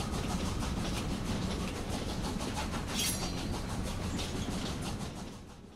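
Train in the action video game Killer is Dead, a steady rumbling rail run with rhythmic clickety-clack, close and loud throughout before easing slightly at the end.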